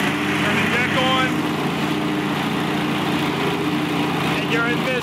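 A Scag three-wheel 61-inch commercial zero-turn lawn mower with an oil-cooled Kohler 22 hp engine runs at fast speed with the deck engaged, making a loud, steady, close engine roar while a person talks over it.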